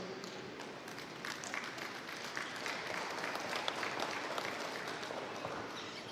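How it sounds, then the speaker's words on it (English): An audience at a dairy cow show applauds the exhibitors, a steady, moderately distant wash of many hands clapping that holds evenly for several seconds. "Can we give all the exhibitors a round of applause here"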